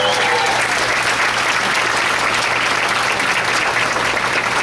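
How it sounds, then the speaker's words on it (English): Applause from an audience right after a company CEO finishes a talk: a dense, steady wash of many hands clapping that holds evenly through the whole stretch, fairly loud and with no voices over it. "Another round of applause"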